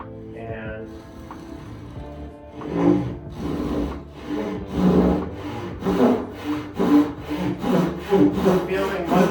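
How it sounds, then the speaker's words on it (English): A hand saw rasps through wooden gussets in steady back-and-forth strokes, loud and close, with a faint voice or noise at the start before the cutting begins. "Haven't done a sawing video in a while, so I'm gonna cut these gussets"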